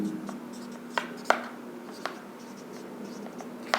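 Writing on a board during a Hindi-language physics lesson on spherical mirrors gives a few sharp taps and short scratchy strokes, spaced irregularly over a quiet room tone.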